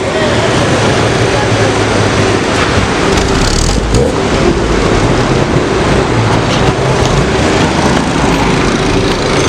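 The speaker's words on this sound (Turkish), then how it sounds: "Marş motorundaki sıkıntı işte bu arkadaşlar." A cheap old car with a faulty starter motor cranks without catching, a steady mechanical churning with low rhythmic pulses over a constant noisy bed, while a voice talks nearby.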